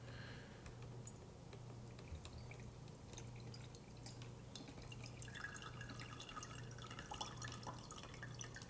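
Water drips and trickles through a homemade filter in a children's water treatment experiment, a faint irregular patter of small drops that grows busier toward the end, heard alone without talk.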